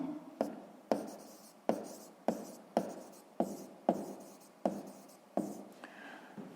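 Chalk or pen strokes writing out a sixth-grade math equation, about nine distinct scratchy taps spaced fairly evenly, each with a sharp onset and a quick fade, close and clear with no talking.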